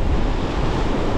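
Ocean surf breaking on a beach while striped bass fishing, a loud, close, continuous wash of waves roughened by wind noise on the microphone.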